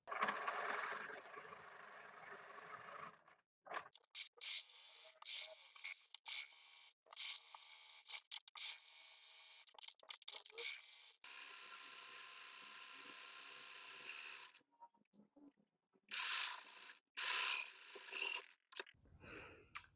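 Sewing machine stitching fabric in short runs, fast mechanical whirring bursts that start and stop with quiet gaps between, fairly faint and close.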